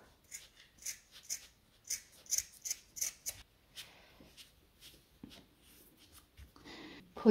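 Crisp scissor snips cutting thread repeat in a quick irregular series, close and quiet, followed by faint rustling.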